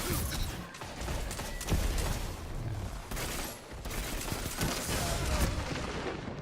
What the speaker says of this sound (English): Oh, didn't throw that grenade far enough.